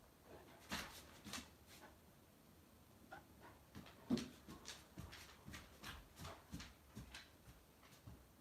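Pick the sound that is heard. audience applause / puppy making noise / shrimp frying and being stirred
puppy making noise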